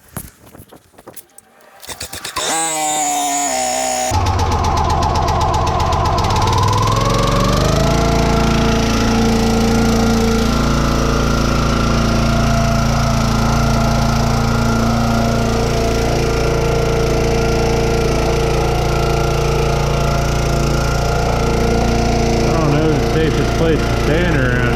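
A gas-engine log splitter starts up and runs steadily, loud and close, its engine droning continuously with shifting load as it crushes a wheel, a voice speaking over it.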